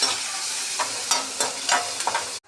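Chopped okra added to a pan of frying ginger, red chili, onion and asafoetida, a bright close sizzle with several scraping stirs that cuts off abruptly at the end.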